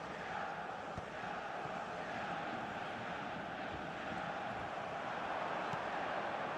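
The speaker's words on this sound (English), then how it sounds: "but it certainly got the crowd going." A dense, steady roar of a stadium crowd in the football video game eFootball 2026 fills the clip, a broad continuous wash of cheering with no distinct voices standing out.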